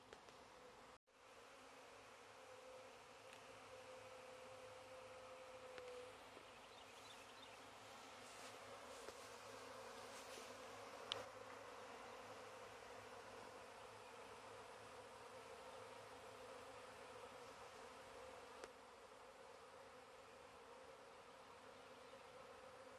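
A honey bee swarm hums in a steady, dense drone for the whole stretch, fairly quiet and even, with a faint tone briefly rising above it and a couple of small knocks.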